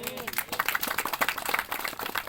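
Audience applause at a groundbreaking ceremony for an Aisyiyah elementary school in Candipuro, a dense, steady patter of many hands clapping at moderate distance, with faint voices mixed in.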